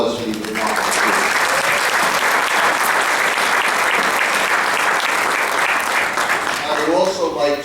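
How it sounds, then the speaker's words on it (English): A room full of attendees at a Hempstead town board meeting applauds students, sustained loud clapping lasting several seconds before tapering off as a voice returns at the end. "Let's have a big round of applause for these remarkable students."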